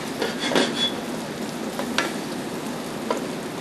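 Corn with its scraped milk sizzling in bacon fat and butter in a hot pan, a steady frying hiss with a few stirring scrapes and clinks, close and alone.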